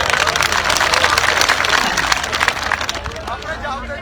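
An audience at a Kanwar Grewal gathering claps in a dense burst of applause that thins toward the end, with crowd voices mixed in.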